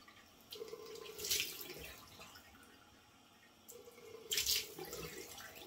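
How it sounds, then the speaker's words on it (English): Cold water running from a bathroom sink tap during a wet shave, a steady soft splashing stream with two brief louder gushes, fairly close and quiet, with no talking. "Turning on the cold water."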